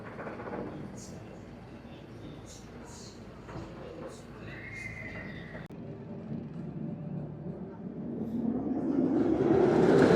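Colossus roller coaster at Thorpe Park, with a train dispatched on a test run. Rumbling rail noise builds steadily and grows louder as the coaster pulls away, mixed with scattered crowd sounds and people talking nearby.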